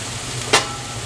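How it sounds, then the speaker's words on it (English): Chopped cheese meat sizzles steadily on a hot griddle, with a single sharp scrape or chop of a spatula cutting through the hiss partway through. "And then we're going to start chopping."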